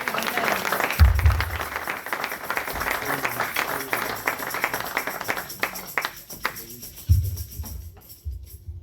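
A church congregation breaks into applause and acclaim for the Lord, a broad wash of clapping and crowd voices with a couple of low thumps, sustained then tapering toward the end.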